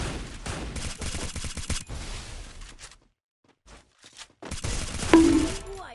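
Gunfire in a shooter game played with sniper rifles: dense bursts of shots crackle for about three seconds, then a near-silent gap with a few isolated cracks, then a louder flurry of shots and noise toward the end.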